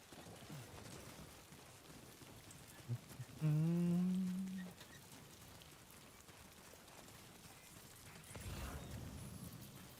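Timefall rain in the video game Death Stranding 2, a steady broadband patter across the whole scene with a brief louder tonal game sound partway through and a swell of low rumble near the end.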